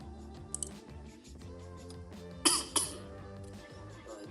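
Two quick, sharp coughs sound close together midway through, standing out over a faint steady background hum.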